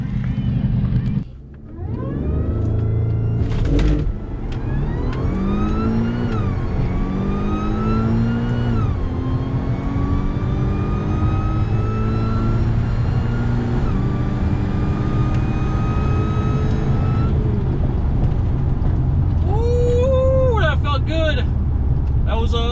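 An Audi A6 launches hard in a drag race, its engine roaring loud and close as it climbs in pitch through several gear changes, with voices faintly audible beneath the steady blare.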